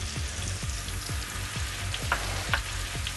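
Shrimp fry with garlic in a pan, a dense steady sizzle with crackling spits and pops, close and fairly loud, with no one speaking.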